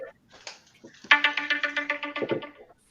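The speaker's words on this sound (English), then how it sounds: "Uh-oh, somebody's phone." A mobile phone rings nearby, a repeating electronic ringtone of short rhythmic tones that starts partway in after brief talk and sounds for over a second.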